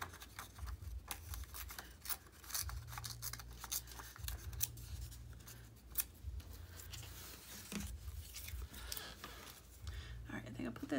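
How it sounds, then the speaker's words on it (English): Paper index cards from Dollar Tree are torn by hand in a series of quick, crisp rips and rustles, close and fairly quiet, continuing steadily with brief pauses. "Carefully rip these a little bit."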